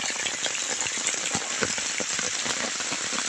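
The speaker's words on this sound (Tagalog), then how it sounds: "Sobrang lakas ng ulan guys o." Heavy rain pours in a steady, dense hiss of drops drumming on a surface, close and loud throughout, with no talking.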